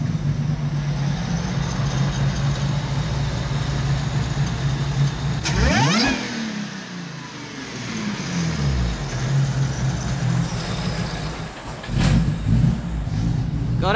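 Holden Monaro CV6 engine idling loudly nearby, then one sharp rev that climbs fast and drops back to a rumbling idle, followed by a second shorter blip near the end.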